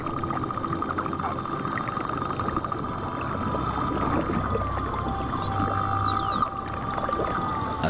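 Pilot whales off Sardinia give faint upsweeping whistles late in the stretch, heard over a constant wash of underwater sea noise and low rumble.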